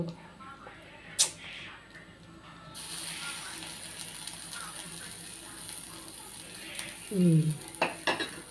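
A bread slice roasts on a hot pan, sizzling and crackling softly with occasional clinks of a utensil against the pan and a brief voice-like sweep near the end; no clear talking.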